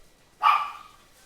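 A single short bark from a dog in a home during a late-night gaming session, fairly close and clear, rising sharply and trailing off against a quiet background.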